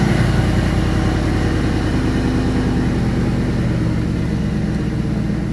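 Rebuilt LM7 5.3L LS V8 with an LS1 cam and new crank and bearings, running on a stand with a steady loud low rumble and even exhaust pulses, close and continuous with no talk.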